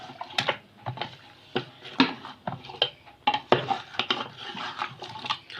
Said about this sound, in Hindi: इसको अच्छी तरीके से मिक्स करना है प्रॉपर